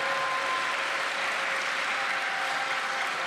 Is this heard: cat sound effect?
no